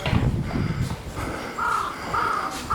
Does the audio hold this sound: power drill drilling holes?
no